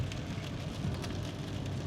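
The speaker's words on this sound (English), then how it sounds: "It's raining cats and dogs." Heavy rain pounds a car while it is driving on a bad road, a dense steady wash of drops over low road rumble, close and continuous with no talk.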